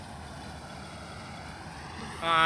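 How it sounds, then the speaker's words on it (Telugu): A maize harvesting machine working in a crop field drones steadily at mid distance with a continuous engine rumble that swells louder in the final moments. "హార్వెస్ట్ అయితే మిషన్కి వస్తూ ఉంది."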